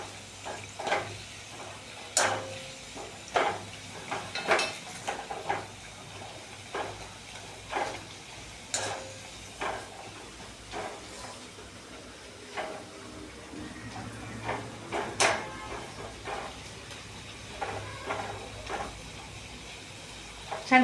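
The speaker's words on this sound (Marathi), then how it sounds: "चला छान क्रिस्पी होईपर्यंत आपण आता हे फ्राय करून घेऊया।" Food frying in a pan while being stirred until crispy and brown, giving a steady low sizzle with frequent sharp scrapes and clicks of the spatula against the pan, moderately close.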